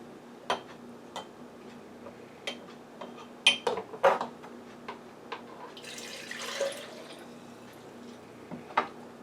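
Pickling liquid poured into a jar of homemade refrigerator pickles with flax seeds, a short soft splashing pour near the middle, surrounded by scattered light clicks and taps of glass and utensils.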